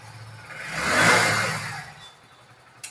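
A 2023 Hero Splendor motorcycle engine starts up close by, swelling into a short rev that peaks after a second, then settles and fades to a quiet idle, ending on a small click.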